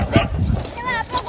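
A dog gives a short yip or bark close by, mixed with a person talking over it.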